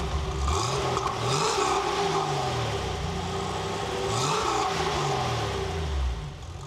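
A Porsche 911 Carrera RS engine revs and pulls through the gears while driving, rising and falling in repeated sweeps from inside the car, loud and steady with no talk.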